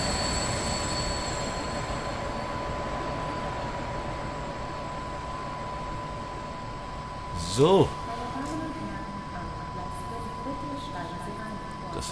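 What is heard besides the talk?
train running in Train Simulator 2022 video game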